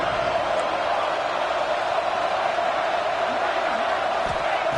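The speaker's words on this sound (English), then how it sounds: "Listen to the crowd energy here in the early going." A packed stadium crowd at an LSU versus Ole Miss college football game roars continuously, a steady and loud wall of voices with no letup.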